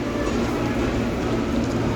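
A KRL commuter train sits at Tanah Abang station, its steady, broad rumble and hum filling the platform, loud and continuous with no distinct events.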